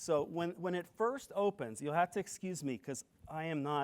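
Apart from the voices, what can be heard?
None of the usual background noises is heard.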